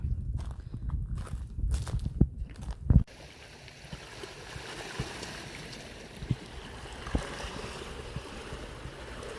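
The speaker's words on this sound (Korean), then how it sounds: "파도 소리" Footsteps crunch for a few seconds, then give way to a steady wash of ocean waves rolling in, continuous and fairly loud.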